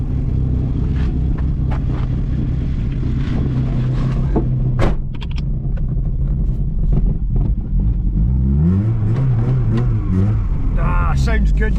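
A Vauxhall Corsa B's engine runs steadily at idle with a deep continuous rumble and a few light revs, close by, while someone talks over it at times.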